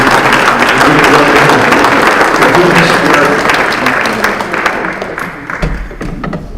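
An audience at a community discussion on policing in Rochester, Minnesota claps for the panelists, a dense round of applause that fades over several seconds, with a speaker's voice over the opening.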